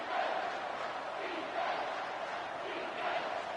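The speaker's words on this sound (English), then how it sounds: "This crowd knows this defense needs them right now." A football stadium crowd at a Notre Dame at Michigan game roars steadily for the defense, a dense, sustained wall of cheering with slight swells, heard from within the stands.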